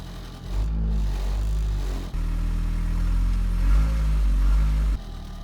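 A high-mileage family car's engine idles and runs steadily up close, a low even rumble with a brief dip partway through and a slight swell near the end, with no voices.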